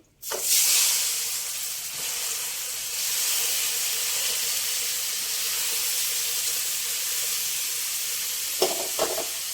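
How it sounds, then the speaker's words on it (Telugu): Gourd pieces dropped into oil with fryingfenugreek powder and turmeric, a sharp burst of sizzling that settles into a steady steamy hiss, close by with a couple of clatters near the end and no talking. "మెంతి పొడి, పసుపు కొంచెం వేగిన తర్వాత ఇవ్వనండి ఆనపకాయ ముక్కలు"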